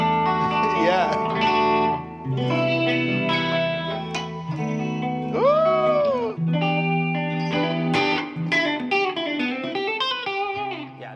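Electric guitar with a big 80s pop effects tone, chorus, reverb and echo, plays ringing chords and bending lead notes with a shimmering, slightly distorted sound, loud and up close.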